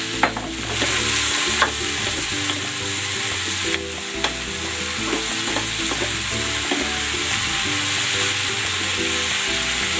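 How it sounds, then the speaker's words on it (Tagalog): Chopped bottle gourd (upo), about a kilo, cooking in a hot pan, a steady loud sizzle and frying hiss with repeated stirring scrapes throughout, close up. "Ilalagay ko na itong upo."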